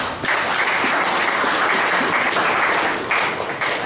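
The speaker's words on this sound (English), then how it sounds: "I think he deserves a good round of applause for that." Applause at a speech club meeting, a full, even roar of many hands clapping that starts abruptly and stays strong for several seconds, with no talking.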